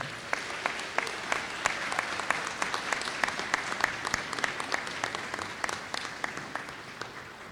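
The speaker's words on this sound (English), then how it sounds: "Give them a round of applause for their support." A graduation audience at a community college commencement applauds faculty and staff, a sustained crowd of mixed clapping with sharper individual claps standing out, steady throughout and slightly easing toward the end.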